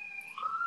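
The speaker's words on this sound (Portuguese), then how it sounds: "É uma ambulância." A brief, faint ambulance siren wails past in the distance as a thin, steady tone shifting in pitch.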